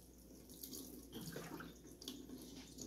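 Tap water runs into a sink while wheatgrass seeds are rinsed indoors, a steady close splashing flow with shifting gurgles, fairly quiet and alone.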